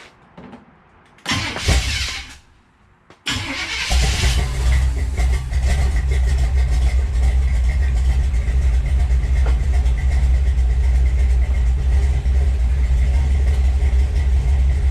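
A 1955 Chevy gasser's engine cranks in short loud bursts, catches and fires up, then settles into a steady, rumbling idle that runs loud and close for the rest of the time, with no talk.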